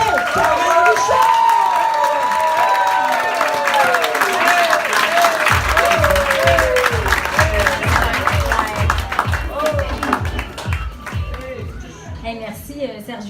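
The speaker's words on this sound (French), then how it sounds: "On applaudit bien fort." A stand-up comedy show audience claps and cheers loudly, with whoops over the applause, which settles into a rhythmic, chanting clap as a voice talks over the crowd.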